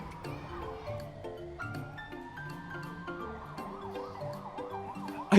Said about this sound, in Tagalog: Mukhang sa banda roon papunta ang tunog ng ambulansya.